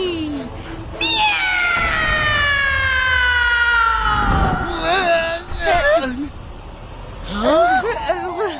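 A human voice imitates a cat, drawing out a long, loud, wavering meow that slides downward, followed by shorter meow-like cries, with speaking voices breaking in between.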